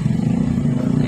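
A motorcycle is ridden on a road, giving a loud, close, steady low engine drone with a rough pulsing rumble and no clear revving.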